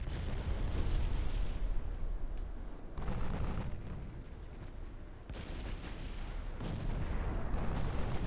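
Salvos from 10-inch naval guns on a warship in the Ultimate Admiral Dreadnought naval game, set in 1964, boom out in several heavy, rumbling blasts a few seconds apart over a continuous low roar of battle.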